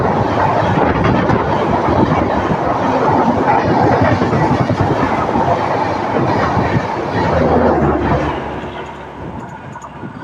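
An express train passes close by on the line near Guntur, heading toward Hyderabad, with loud continuous rumble and clickety-clack of wheels over rail joints throughout, easing slightly near the end.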